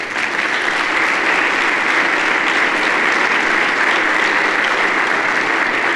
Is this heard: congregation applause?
yes